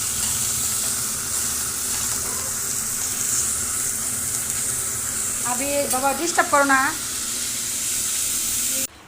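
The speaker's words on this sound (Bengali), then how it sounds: "আমি রান্না করতেছি, শাক ভাজি করতেছি" Steady sizzling of greens frying in a pan runs throughout, with a voice speaking briefly over it near the middle before the sound cuts off.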